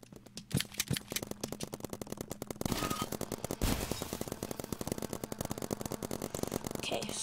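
Rapid, rattling bursts of paintball gun fire in the Roblox game, crisp repeated pops in fast strings with brief pauses, continuing under soft game ambience.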